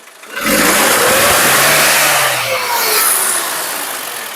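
A 2020 Isuzu D-Max pickup engine is revved hard once, roaring up loudly and close, holding high, then easing back toward a steady idle.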